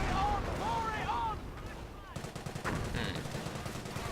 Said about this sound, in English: Or is that another mortar?